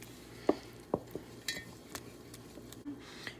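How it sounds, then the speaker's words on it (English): A spoon stirs butter and vanilla into a banana cream pie custard in a pot, with a few soft clinks against the metal and a faint sizzle underneath. "Now we're going to stir this in until the butter is melted."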